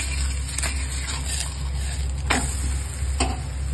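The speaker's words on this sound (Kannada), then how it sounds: "ಸುತ್ತಲೂ ಎಣ್ಣೆ ಹಾಕಿ ಬೇಯಿಸಬೇಕು." Vadappe flatbread cooking in oil spread around it on a griddle, a steady low sizzle running throughout, broken by a few sharp spatters and ticks of popping oil.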